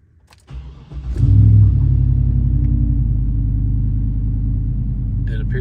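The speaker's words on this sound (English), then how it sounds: "It appears we have fire on all 8 cylinders" A Chevrolet Silverado V8 cranks and catches, quickly settling into a loud, steady low idle rumble up close, with a brief click near the end.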